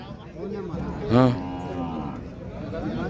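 A single deep cow moo rings out briefly amid a low murmur of background noise at a weekly cattle market in Pebbair, fairly close and clear.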